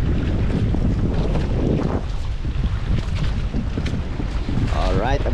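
Strong wind roars across a fishing boat at sea at night, a loud continuous buffeting rush mixed with water noise, with a brief voice near the end.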